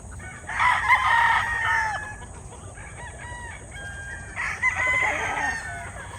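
A gray game rooster crows loudly nearby, with one long crow followed by a second crow a few seconds later over a low farmyard background.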